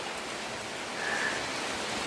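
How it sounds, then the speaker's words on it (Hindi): Heavy rain falls steadily through winter fog, a uniform, unbroken hiss of water with no other sounds standing out. "कुहासा भी आ गया है और जोरदार बारिश भी हो रहा है"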